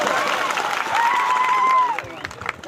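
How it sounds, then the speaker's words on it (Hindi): A crowd at a village gathering for World Tribal Day in Survakodh claps and cheers, a rough wash of applause with a drawn-out whistle rising above it before it trails off. "एक बार जोरदार तालियां बजाते"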